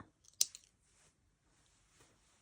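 Scissors snip through fabric scraps for slow stitching: one sharp, close cut in a quiet room, followed by faint rustling.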